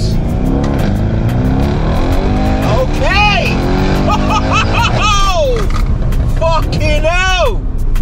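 Mercedes E63S V8 accelerating hard on the road, a loud continuous engine roar rising and surging throughout, with excited shouting and talk from inside the car over it.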